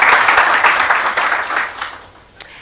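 A webinar audience claps for a panel, a lively burst of applause that is loudest at first and thins out toward the end, with a few last scattered claps.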